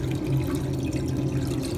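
Water pours steadily into a cooking pot of shrimp and lentils, a continuous close splashing fill with no talk over it.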